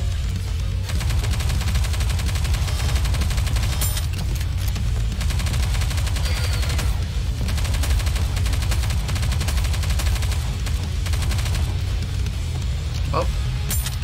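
Rapid gunfire bursts in the shooter game Goddess of Victory: Nikke form a loud, dense, continuous clatter for the whole stretch, layered with other game effects and voices.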